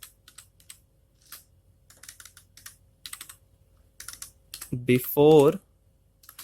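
C code being typed on a computer keyboard, with quick irregular bursts of key clicks at close range. Someone speaks briefly near the end.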